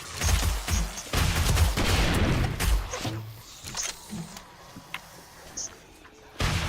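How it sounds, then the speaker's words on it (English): Rocket launcher shots and explosions in the game 7 Days to Die, a few heavy booming blasts up front followed by scattered thuds and softer impacts, then another blast at the end. "wow, these rockets are powerful"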